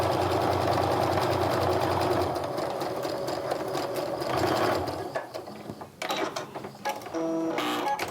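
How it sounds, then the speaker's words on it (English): Sewing machine stitching quilt pieces together in a rapid, steady mechanical chatter, close and continuous, that slows and pauses briefly near the end before resuming. "sew the rest of that side down"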